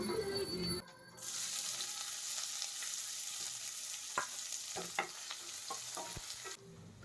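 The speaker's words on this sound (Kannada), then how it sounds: "ಇನ್ನು ಇದಕ್ಕೆ ಈರುಳ್ಳಿ ಹಾಕ್ಕೊಂಡು ಚೆನ್ನಾಗಿ ಫ್ರೈ ಮಾಡಿದ್ದೀನಿ" Onions with cumin or fennel spices frying in a pan for a mushroom breakfast dish, a steady bright sizzle with occasional stirring scrapes and taps, after a brief louder burst at the start and a short lull.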